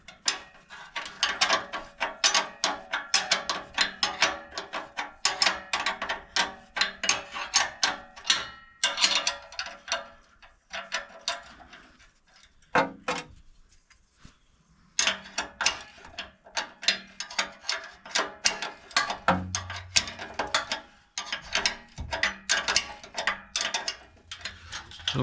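Ratchet clicking as exhaust nuts are tightened on a Toyota FJ Cruiser during a stainless steel exhaust install, with rapid bursts of close metallic clicks repeating through the clip, pausing briefly near the middle before resuming.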